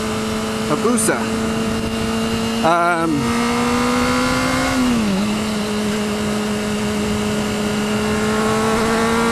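A Suzuki Hayabusa sport motorcycle engine roars past nearby, its pitch rising and then dropping as it passes, with steady traffic noise and a voice underneath.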